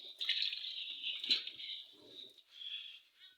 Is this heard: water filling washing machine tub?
yes